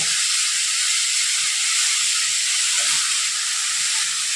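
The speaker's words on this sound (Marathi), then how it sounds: "गॅसच्या मध्यम आचेवर आपण हे परतून घ्यायचं" Mixed vegetables sautéing in a pan over a medium gas flame, with tomato just added, give a steady, close, broadband sizzling hiss that holds evenly without pause.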